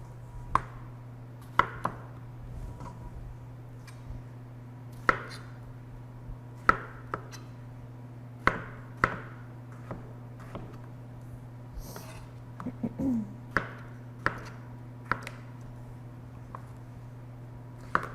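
Knife strokes slicing tomatoes on a cutting board, about a dozen crisp, evenly spaced cuts close by, over a steady low hum, with no talking.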